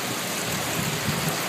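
Steady rain hisses evenly as a dense, continuous wash of noise over a short stretch, with no distinct drops or voices standing out.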